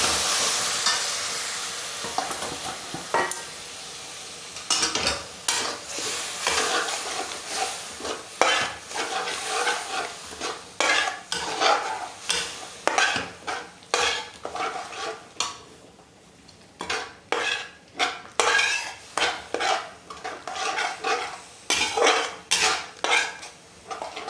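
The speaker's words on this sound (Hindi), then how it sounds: "तो दही को इस तरह से चलाते हुए टमाटर के साथ अच्छे से फ्राई कर लेंगे।" Yogurt being stirred into softened tomatoes in a frying pan for veg dum biryani: a spoon scrapes and clinks against the pan in quick repeated bursts over a soft sizzle, with no talk.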